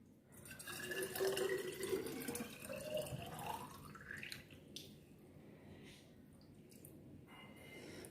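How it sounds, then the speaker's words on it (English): Water pours into a glass bottle, filling it to the top; a rising, gurgling pour builds over the first few seconds, then settles into quieter trickles and drips. "we need a glass bottle, as you can see, and we have to fill it with water till the top"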